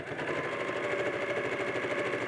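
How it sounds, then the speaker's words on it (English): Up close, a sewing machine runs steadily and evenly as it stitches quilt pieces together with a seam under a quarter inch, giving a continuous fast mechanical whir. "And we're going to do it at less than 1/4 inch."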